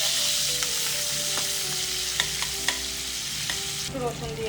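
Onion sizzles steadily in hot oil in a pan, with a few light stirring clinks near the end and no voices.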